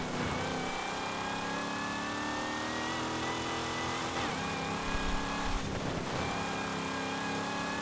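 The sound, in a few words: Dodge Coronet Super Bee engine in the video game Forza Horizon 5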